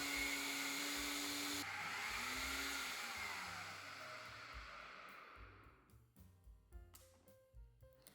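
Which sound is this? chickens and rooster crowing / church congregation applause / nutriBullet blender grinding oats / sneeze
nutriBullet blender grinding oats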